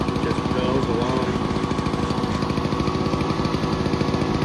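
Honda EX350 two-stroke inverter generator running on choke, a steady close rhythmic engine chug that fills the whole clip at an even level.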